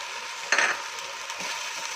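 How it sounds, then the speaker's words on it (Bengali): Onion paste fries in a pan over medium heat for Bengali dum aloo, a soft steady sizzle with a brief louder hiss and scrape of stirring near the start. "এই পেঁয়াজের পেস্টটাকে ভেজে নেব ভালো করে।"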